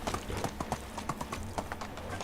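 Horse hooves clip-clop in a steady walking rhythm as a rider travels in the medieval survival game Medieval Dynasty, the regular hoofbeats soft and even with no voices over them.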